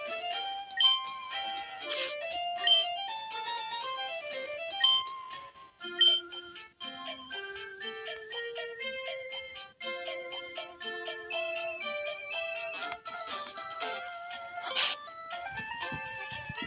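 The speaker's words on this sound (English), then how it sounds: "we end up getting a phone call from the professor and he says, come to the lab" A Pokémon video game plays a phone-call jingle, a bright, bell-like electronic melody of quick tinkling notes that repeats over and over for a long stretch at moderate volume, with no voices.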